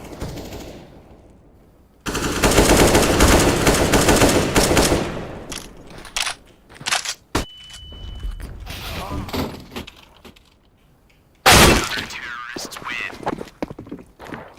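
Video game gunfire, with dense bursts of rapid automatic shots alongside single cracks, mechanical clatter and footsteps, loud and close, broken by short quiet gaps.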